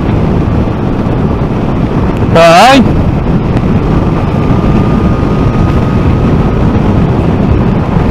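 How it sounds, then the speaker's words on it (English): Heavy, roaring wind buffeting the microphone at speed on a Yamaha Niken motorcycle in sixth gear, with an engine drone beneath, continuous and loud; a voice briefly speaks partway through. "It's a tad windy today"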